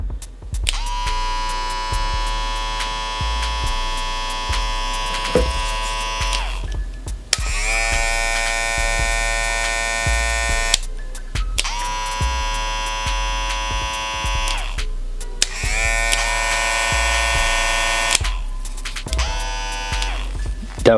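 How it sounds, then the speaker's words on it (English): Cordless hair clippers buzz loudly in several bursts, switched on and off repeatedly with short gaps between runs, a steady electric hum throughout with no talking. "Definitely the most quiet clippers that I own for sure."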